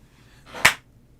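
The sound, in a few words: hand clap slapping to kill a bug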